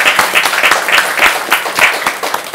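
Conference audience applauding, a dense steady patter of many hands clapping close by with a few sharper claps standing out, continuous throughout.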